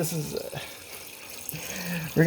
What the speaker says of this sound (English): let's fill up our French press with water